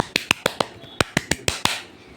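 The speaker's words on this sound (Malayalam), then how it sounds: "ഞാൻ നിങ്ങൾക്ക് വേണ്ടി ഒരു കയ്യടി തരുന്നു" Ten sharp hand claps ring out alone in two quick bursts, each clap crisp and close with a short decay, the second group slightly more spaced.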